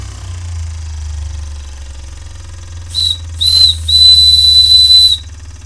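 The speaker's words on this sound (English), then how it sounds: "There we go, lots of good whistle." An Empire B-30 toy steam engine's steam whistle gives several shrill hissing blasts, two short and then one longer, over the steady low hum of the running engine with no talking.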